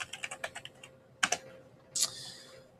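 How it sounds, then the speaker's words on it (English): A computer keyboard clatters in a quick burst of about seven keystrokes, then after a pause two sharp taps and a final louder key press, all close and clear with no speech. "You'll put your cursor before the number 1 and type in your last name."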